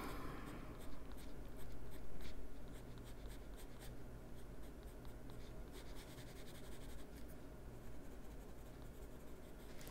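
A colored pencil scratching over paper while shading envelopes in a coloring page, a close, continuous dry rasp with rapid back-and-forth strokes and no talk.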